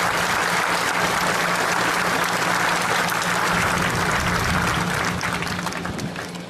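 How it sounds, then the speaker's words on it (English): Steady audience applause fills a high school graduation ceremony hall, dense continuous clapping at even loudness that begins to fade near the end. "Thank you for your applause"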